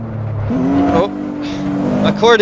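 GT3 race car engine accelerating in third gear, a loud close rising rev with gear-change dips and a sharp shift near the end, with someone talking over it.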